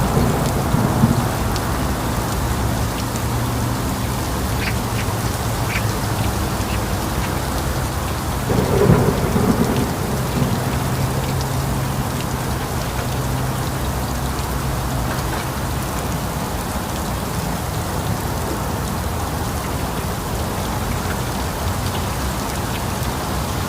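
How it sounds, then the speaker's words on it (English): A torrential downpour in a severe thunderstorm under a tornado warning, with steady loud rain roaring throughout and a deep rumble of thunder rolling through near the middle. "We are in a torrential downpour. We're in a pretty bad storm."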